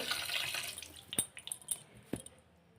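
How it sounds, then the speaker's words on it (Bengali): Running tap water splashes over raw chicken meat being washed in a kitchen sink, with a steady wash of water broken by several sharp knocks and splashes as the pieces are handled close by. "ভালো করে আমি ধুয়ে নেবো চিকেনটা"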